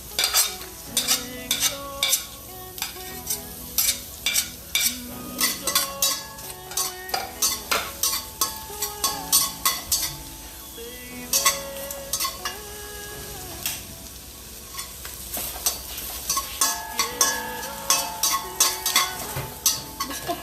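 Stir-frying Mongolian barbecue in a Saladmaster gourmet wok: a spatula scrapes and clatters in quick, repeated strokes against the metal pan over a light sizzle, with a steady tonal layer underneath.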